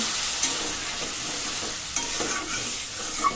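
Duck meat masala sautéing after a splash of water: a close, steady sizzle with soft stirring scrapes and a few brief clicks of the spoon against the pan.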